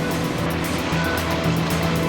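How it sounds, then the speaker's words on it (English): Water rushing over the edge of a waterfall gives a loud, close, steady roar of broadband noise that never lets up, with no voices. "she was on the tip of the falls, so the water there is making noise"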